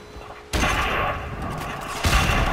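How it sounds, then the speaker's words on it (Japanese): Heavy gunshots and battle noise in Call of Duty Modern Warfare Remastered, a multiplayer team deathmatch on the Crossfire map with M16A4 and M9, bursting in suddenly and loudly after a quiet start, with a second blast near the end. "あと一発撃ってるよこれ"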